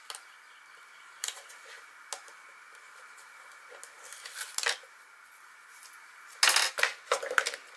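Adhesive backing peeled off paper while assembling a watercolor mini album, heard as faint, sparse crinkles and short tearing rasps that turn into a louder cluster of crackly peeling and paper handling near the end, with no speech.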